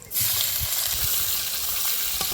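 Chopped onion drops into hot oil tempered with whole cumin, dried red chilli, bay leaf and caramelised sugar, setting off a loud, close, steady sizzle and crackle that holds throughout.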